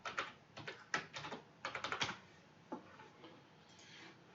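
Quiet, close typing on a computer keyboard, with irregular clusters of light key clicks and short pauses between them, no voices.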